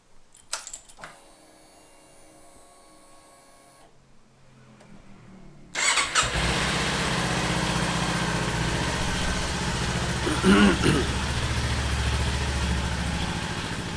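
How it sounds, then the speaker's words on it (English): A few clicks and faint mechanical whirring, then a Kawasaki Ninja 400 motorcycle engine catches around the middle and settles into a loud, steady idle that runs to the end. "Start your motorcycle."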